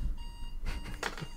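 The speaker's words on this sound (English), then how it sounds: "my alarm's going off." A beeping alarm goes off during a Halloween-themed improv comedy game show, a steady electronic tone that is fairly faint and brief against room noise.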